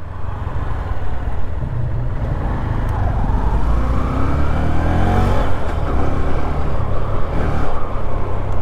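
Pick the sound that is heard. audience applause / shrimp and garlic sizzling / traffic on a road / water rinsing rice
traffic on a road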